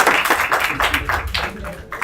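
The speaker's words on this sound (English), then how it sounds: "You people please clap for everybody" Audience clapping in a lecture hall during a climate change research workshop, a brief cluster of uneven claps from several people, fairly close, with a voice talking over part of it.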